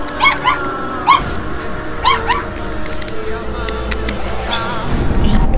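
Several dogs yelp and whimper in short high bursts over steady background noise, with voices talking at times.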